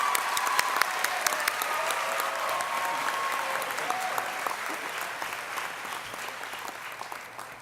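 An audience at a freshman convocation claps steadily to welcome a speaker, a broad wash of applause that stays strong, then slowly thins and fades toward the end.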